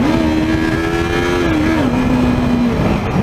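A Yamaha R3 motorcycle accelerates hard, its engine note climbing steadily in pitch, dipping briefly at a gear change and then climbing again, loud and close throughout.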